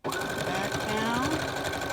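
A sewing machine runs steadily and loudly for the whole stretch, stitching the final seam of a pleated fabric face mask before a reverse stitch.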